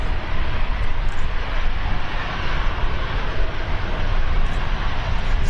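A TUI airliner at Lanzarote Airport in the Canary Islands gives a loud, steady broadband jet engine roar that stays even throughout, with no voices over it.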